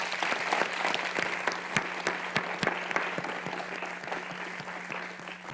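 Conference session audience at an astronomy observatory planning meeting applauds, with a spread of individual claps standing out sharply over a continuous wash of clapping, moderately loud and unbroken by talk.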